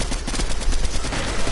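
Fast, loud automatic gunfire in Fortnite, a dense rattling stream of close shots running without pause for the whole moment.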